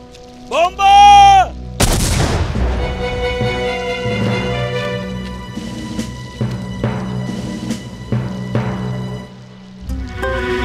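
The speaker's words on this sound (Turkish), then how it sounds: "Bomba!" Bomb explosions and artillery fire in a military battle scene, opening with a whistling incoming shell, then a loud blast followed by rolling booms and scattered impacts ringing out over several seconds.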